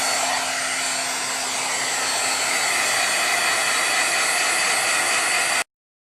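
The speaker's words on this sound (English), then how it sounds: "I'm going to heat set it a little bit with my heat gun" A handheld heat gun blows steadily over wet paint on a sunset wave painting, a loud, even airy whoosh that runs without a break for several seconds and then cuts off abruptly.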